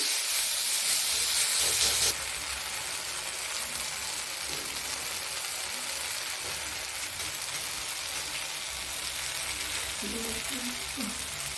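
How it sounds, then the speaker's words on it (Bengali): Spice paste with turmeric fries in a pan for a Bengali bottle gourd and prawn curry, giving a continuous broad hiss and sizzle at moderate level, louder at the start, with faint stirring throughout. "ভালো করে মশলাটা কষে নিই।"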